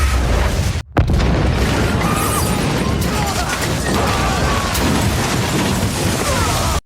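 A loud explosion from a film booms, then a heavy roaring rumble with crackling debris carries on for several seconds, briefly cut by a short gap.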